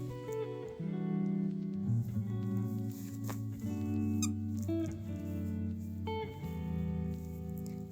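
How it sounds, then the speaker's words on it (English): A dog's squeaky toy gives repeated high, tonal squeaks, loud and close, in a steady run of presses with no talking. "Ignore the squeak, that's Tara and her toy"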